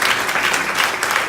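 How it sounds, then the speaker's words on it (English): Church congregation applauding during an honoring ceremony, a brief, steady burst of clapping from the crowd. "Let's give a round of applause for that"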